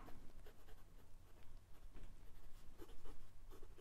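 Fountain pen, a Ferris Wheel Press Carousel with a medium nib, writing on Clairefontaine 90 GSM paper, a quiet continuous scratching of nib strokes with small irregular pauses, faint and close, no voices.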